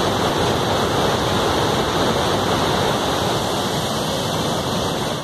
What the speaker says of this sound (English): The fall of the water raises clouds of steam that are seen several kilometers away.